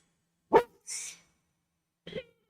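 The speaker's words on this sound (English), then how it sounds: "Do you hear the dog?" A dog gives one short, sharp bark, followed by a breathy huff and then a quieter second bark, each separated by silence in a quiet room.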